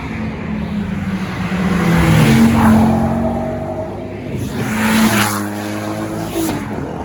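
Peugeot 106 or 306 rally cars race past flat out, engines rising and fading in two loud surges, with a hint of tyre noise at a moderately close distance.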